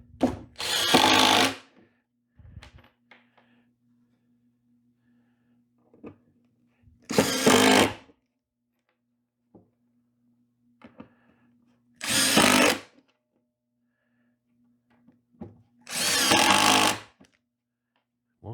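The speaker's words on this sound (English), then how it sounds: "I have always gone the extra step and screwed that top cleat to the plywood" A power drill drives screws through a top cleat into plywood on an insulated winter beehive cover, in four separate loud whirring bursts of about a second each, separated by quiet pauses.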